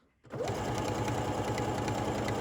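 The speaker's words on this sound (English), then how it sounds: "It's going to bar tack, and now it's going to come down the other side" A sewing machine with a buttonhole foot stitches a buttonhole on a center front band, starting after a brief quiet moment and then running in a steady, rapid mechanical chatter at close range.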